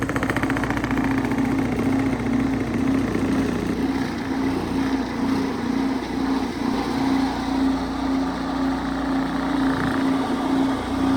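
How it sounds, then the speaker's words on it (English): A sieve shaker machine grades powder for shrimp lollies on a fine mesh, giving a steady mechanical hum with a strong, constant rapid pulsing buzz that runs unbroken. "So we're using this shaker machine and we've got it"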